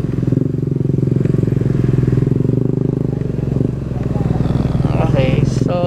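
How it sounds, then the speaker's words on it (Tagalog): A motorcycle-powered tricycle engine runs steadily and close on a wet mountain road along Marilaque in Tanay, Rizal, with a constant low rumble throughout and voices faintly talking over it. "Tunog tricycle eh."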